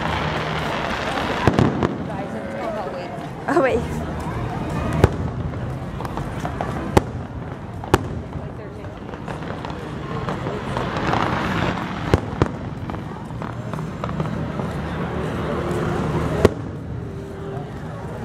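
Fireworks bursting over Disneyland at night, a steady barrage of booms and sharp cracks heard from a distance on a walk, with crowd noise and people talking throughout.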